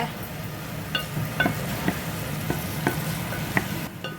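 Steady sizzling of onions, green chilies, curry leaves, fenugreek, mustard and fennel seeds frying in hot oil for a kohlrabi curry, with occasional light stirring and scraping sounds in the pan.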